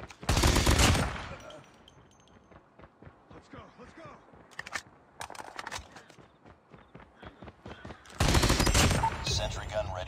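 AK117 rifle fire in a mobile shooter game, two loud sustained automatic bursts at start and end framing lighter scattered shots, footsteps and game effects in between.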